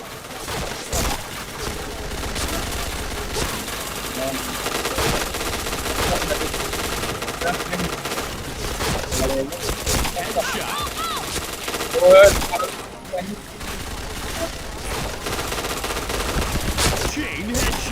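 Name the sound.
gunfire in the video game PointBlank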